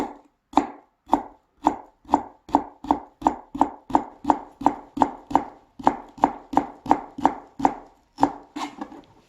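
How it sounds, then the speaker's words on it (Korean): A knife julienne-cuts vegetables on a cutting board in about twenty crisp, evenly spaced chops at a steady rhythm, close and clear. "이렇게 채를 썰어줍니다."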